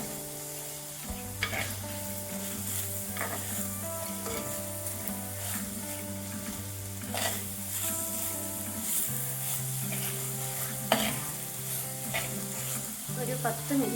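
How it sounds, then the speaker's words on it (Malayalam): Squid (kanava) thoran being stirred as it fries in a pan, with a steady close sizzle and intermittent scraping stirs throughout, no talking. "ഇടയ്ക്ക് നമ്മളൊന്ന് ഇളക്കി ചേർക്കണം."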